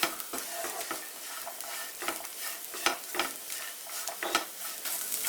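Bitter gourd fry cooked Kerala style is stirred in a hot pan after sugar is added, producing repeated scraping strokes over a continuous crackling sizzle, close and fairly quiet, with no voices.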